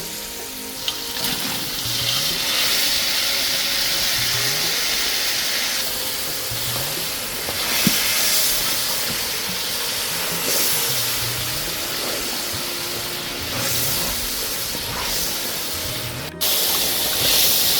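Fried fish dropped into boiling vinegar for a homemade Kerala-style fish pickle, giving a steady hiss and sizzle with bubbling, a few soft clinks of a utensil, and no talking.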